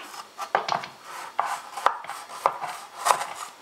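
A small knife works around the edge of a baked génoise sponge cake in its tin, producing a run of short, close scraping taps and rubs at an irregular rhythm, with no other sound.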